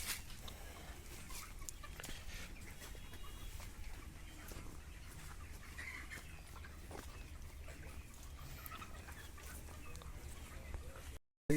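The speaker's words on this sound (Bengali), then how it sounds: "এখানে একটা মুরগির ফার্ম, এখানে মুরগি চাষ হয়, দেখতে পাচ্ছ মুরগির ফার্ম" Chickens on a poultry farm cluck and rustle steadily in a dense flock chorus, with constant low farm background noise throughout and a brief dropout near the end.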